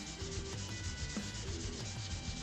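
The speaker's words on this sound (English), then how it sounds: "Really starting to polish up the fretboard now." A guitar fretboard being sanded with fine 600 grit sandpaper, a faint steady rubbing hiss in continuous back-and-forth strokes, close and quiet with no voices.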